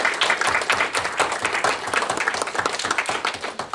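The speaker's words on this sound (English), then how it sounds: "Can we give all of the adults a round of applause for being part of your life?" Applause for the adults at a town board meeting in Plattsburgh, a room of people clapping with distinct, fairly close hand claps in an uneven rhythm throughout.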